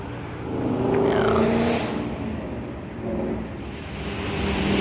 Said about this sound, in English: I'm sure you can hear all the traffic down below me.